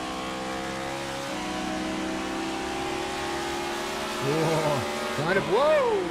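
A race car in the iRacing video game at New Hampshire, its engine droning steadily before dropping through quick downshifts with sharp revving blips near the end, loud and continuous.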